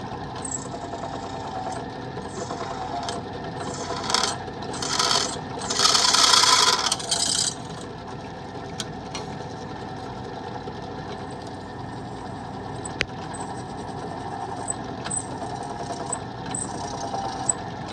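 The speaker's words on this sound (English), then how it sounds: "Alright, let's get set up on the drill press." Drill press boring holes in a metal exhaust pipe part for an Echo 2511T, a steady motor whir with grinding, rasping bursts as the bit cuts, fairly close with no talking.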